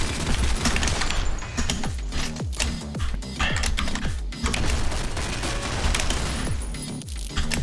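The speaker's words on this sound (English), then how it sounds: "I'm hearing enemies shoot." Enemy gunfire in the top-down shooter game OTXO, dense rapid bursts of shots packed together almost without pause, mixed with fast clicking keyboard keystrokes at close range.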